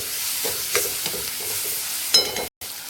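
A spoon stirs tomatoes into sprouted moong in a pan, with a soft continuous sizzle and scraping taps throughout and a brief sharper clatter near the end, close and moderately quiet.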